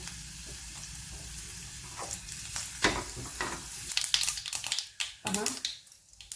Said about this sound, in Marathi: फोडणीतील जिरं वगैरे तडतड सोडलेला आहे जिरं मोहरी